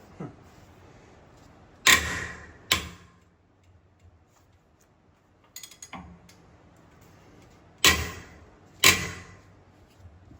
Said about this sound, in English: That must be the ratchet though.